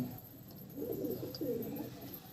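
Andhra pigeons coo softly in a few low, rolling phrases that rise and fall, faint and close by over a quiet hiss, with no talking.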